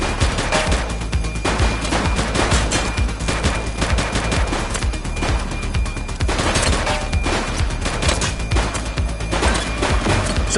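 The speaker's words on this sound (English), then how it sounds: "He's shooting!" Heavy sustained gunfire during a police shootout in a police game, with officers trading fire against armed suspects: loud, continuous rapid shots crackling and overlapping densely throughout, with no pauses.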